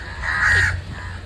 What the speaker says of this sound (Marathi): अरे कावळे कसे कावू कावू करते